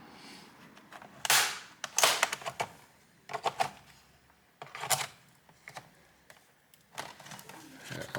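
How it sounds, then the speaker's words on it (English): A plastic pry tool works along the seam of a stubborn device casing, giving sharp clicks and snaps in irregular bursts, some close and fairly loud, with quiet gaps between. "I'll use a plastic pry tool along here"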